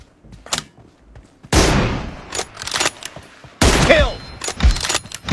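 Gunfire in a shooter video game: bursts of loud, sharp shots crack in clusters, two heavy volleys start abruptly and trail off, with scattered single pops between and no talk over them.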